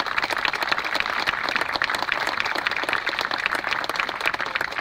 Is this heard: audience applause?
yes